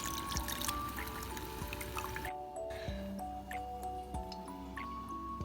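Milk poured into a boiling sugar mixture for the sauce of a wet chocolate cake, a steady liquid pour and drip over a constant kitchen hum, with no talking.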